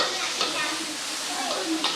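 Food sizzles steadily as it is stir-fried in a wok, with two sharp spatula clanks against the metal and a faint trace of voices in the background.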